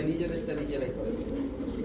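A male pigeon in a cage gives low, throaty coos that run through the whole moment, heard close by under a person speaking.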